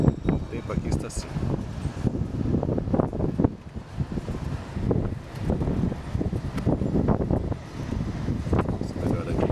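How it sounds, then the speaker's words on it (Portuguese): Strong wind gusts buffet the microphone at Praia da Aparecida beach in Santos, a loud, continuous roaring rush that surges and eases in waves across the whole stretch. "mas de repente voltou a rajada de vento"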